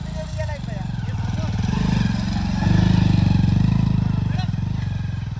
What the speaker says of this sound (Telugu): ఇక బాలు 5 బైకులు తిప్పాలి వీడియో తీయాలి